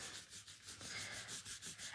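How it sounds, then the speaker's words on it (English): Tissue rubbed back and forth over inked embossing powder on a crafting surface, a soft steady scrubbing with rhythmic strokes, close and fairly quiet, with no voices. "we're going to get the tissue and hold this, and we're going to rub."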